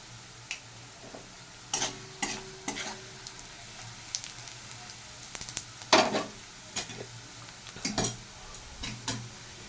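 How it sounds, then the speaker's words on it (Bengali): Fried onions and radhuni spice sizzling in a pan of dal tempering with dried chillies, with soft crackling and intermittent scraping stirs and clicks, fairly quiet and close, no talk. "পেঁয়াজটা আমার ভাজা হয়ে গেছে দিয়ে দিচ্ছি দুটো রাঁধুনি"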